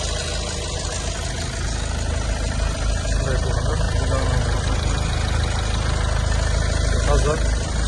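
A 2018 Kia Sorento 2.0 diesel engine idles with a steady, close low drone and faint knocking clatter, while someone talks over it throughout.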